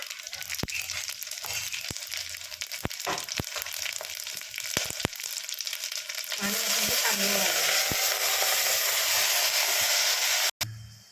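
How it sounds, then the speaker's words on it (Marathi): Whole cumin, shahjeera, black pepper, cloves, cinnamon and cardamom hit hot oil for a chicken biryani, starting as steady crackling with scattered stirring clicks, then jumping into a loud, dense, continuous sizzle that fills the last seconds, near and without speech. "जिरं शहाजिरं काळी मिरी लवंग दालचिनी आणि मसाला वेलदोडे हे सगळं मी एकदमच ह्याच्यात टाकणार आहे"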